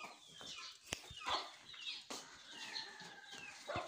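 Chickens and chicks clucking and chirping inside a coop, with several overlapping calls and a few sharp wing flaps or knocks across a quiet background, fairly close.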